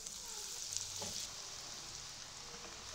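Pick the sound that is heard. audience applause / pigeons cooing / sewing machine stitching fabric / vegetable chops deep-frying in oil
vegetable chops deep-frying in oil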